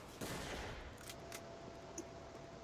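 Sniper rifle fire in a video game, a few sharp shots heard at a distance, the first heaviest and the rest fainter, over a constant hissing game background with no speech.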